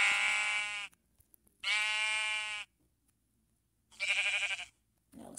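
Minecraft sheep bleat three times, each a loud, buzzy, wavering cry of about a second, with quiet gaps between them and a brief faint sound at the very end.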